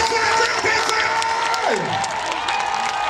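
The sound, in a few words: church congregation cheering and applauding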